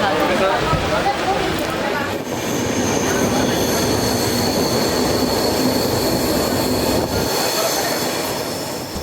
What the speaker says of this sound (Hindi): तो फाइनली हम लोग ट्रेन पे चढ़ चुके हैं।